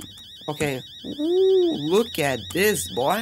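A video game alarm clock rings with a steady wavering electronic beep tone in Fears to Fathom: Home Alone, held under someone talking loudly over it.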